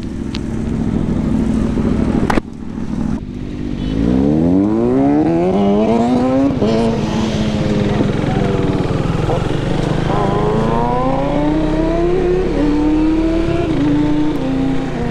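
An Aprilia RSV4 sportbike on a wet road during a group Sunday ride, its engine loud and close, pitch climbing repeatedly through rising revs and gear changes, with a brief dip in the middle.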